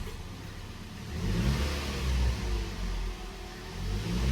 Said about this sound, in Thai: เหยียบคันเร่งเบาๆ เพื่อ ทดลองฟังเสียงของเขานะครับ